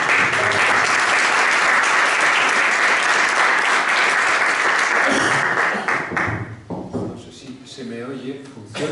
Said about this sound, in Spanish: Por tanto, un fuerte aplauso para él